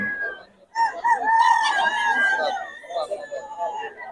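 A bullstag rooster at a poultry market in Bocaue crows loudly and close, one long drawn-out call followed by clucking, with someone talking over the scene.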